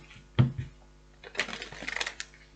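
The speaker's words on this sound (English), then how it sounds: "let me just shuffle this properly" Tarot cards are shuffled nearby: a single sharp slap, a short pause, then a dense, riffling flurry of papery card snaps rising and falling.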